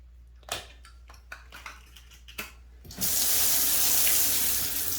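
A bathroom sink faucet fitted with a new aerator, opened after a few small clicks and taps, then water gushes steadily and loudly into the basin.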